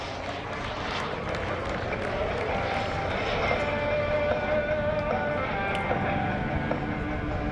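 A steady jet engine whine drones through a noisy outdoor airshow crowd, holding a rising pitch as a Super Salto sailplane powered by a TJ100 jet engine flies past at a distance.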